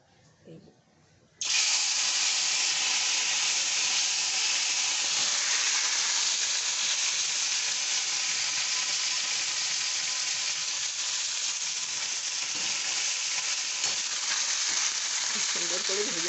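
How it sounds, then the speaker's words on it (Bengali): Fish frying in hot oil in a wok, a loud continuous close hiss that bursts in after a quiet, faint opening and holds steady to the end, with faint background sounds beneath. "কড়াইতে তেল দিয়ে দিয়েছি। এবার মাছটা আমি ভেজে নেব।"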